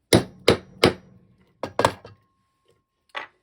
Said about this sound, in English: And then just hammer.